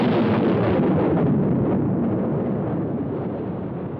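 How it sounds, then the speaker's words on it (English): A Soviet atom bomb, the first detonated in 1949, built on the implosion principle: a loud, sustained roaring rumble that fills the low end and slowly fades over a few seconds, with no voices. "the Soviets exploded their first atom bomb"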